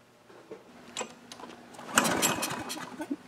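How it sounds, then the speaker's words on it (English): Small gasoline lawnmower engine, salvaged from the trash and just repaired, running with a steady mechanical rattle outdoors, swelling louder midway and continuing at close range with no one talking. "lawnmower he got out of the trash. We got it running."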